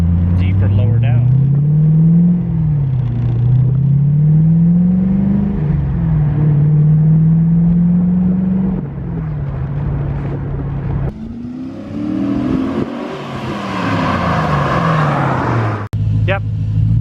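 A Honda S2000 with a V8 engine swap drives along, its deep, low engine note rising and falling through gear changes, not especially loud, with a pass of wind and road rush near the end; people talk over it.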